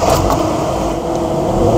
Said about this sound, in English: That's quite a smooth engine actually.